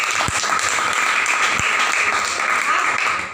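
A crowd claps steadily and loudly throughout, a dense continuous wash of applause from many hands.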